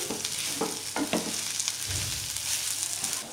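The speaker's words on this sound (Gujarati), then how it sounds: "તુવેર અને વટાણાને આપણે તેલ સાથે બરાબર મિક્સ કરી લઈશું" Crushed green pigeon peas and green peas stirred into hot oil for tuver kachori filling, a steady soft sizzle with a few spoon scrapes, close by and without speech.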